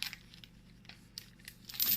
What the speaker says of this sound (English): we're going to take this chain and we're going to wrap it around